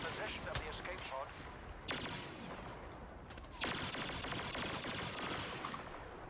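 Dense, continuous video game gunfire with a few louder bursts standing out, heavy and cluttered throughout with no clear pauses.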